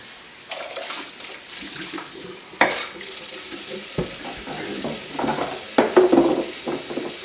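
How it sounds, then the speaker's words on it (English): Dishes are rinsed in a kitchen sink, with running water, splashes and clinks of plates and utensils, close and moderately loud, in a continuous irregular pattern. "So, okay, so I'm going to do a little more rinsing."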